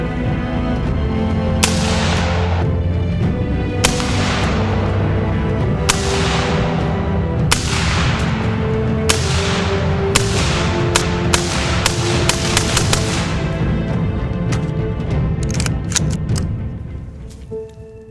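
Suppressed 5.56 rifle with an OCL Polonium K suppressor firing on steel targets outdoors: about a dozen loud, sharp reports, spaced at first and then quickening into a rapid string, each followed by a brief ringing tail.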